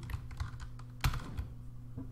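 Computer keyboard shortcut keys pressed while working in Inkscape: a short run of light, close key clicks, with one sharper, louder press in the middle of the burst and no talking.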